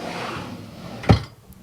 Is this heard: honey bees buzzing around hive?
no